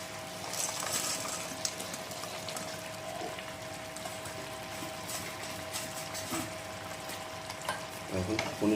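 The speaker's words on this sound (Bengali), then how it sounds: "আমাদের গ্রেভিটা কিন্তু ফুটে উঠেছে। আর এখন দিয়ে নেব স্বাদ মতো লবণ। তার সাথে দিয়ে নেব ভেজে রাখা পনিরগুলো।" Paneer curry gravy bubbles in a pan as fried paneer is stirred in, giving a soft, continuous sizzle and simmer with faint scraping and clinking, louder clatter near the end, and no speech.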